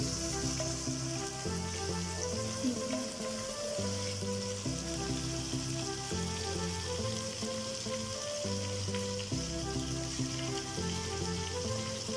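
Chicken sizzling with garlic in a hot pan, a steady close crackle and hiss that runs unbroken the whole way, with a low repeating tune playing underneath and no voices.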